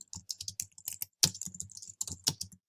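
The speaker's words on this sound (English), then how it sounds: "they'll go and they'll start typing" Rapid typing on a computer keyboard in bursts of close, crisp key clicks, with brief pauses between runs and no talking.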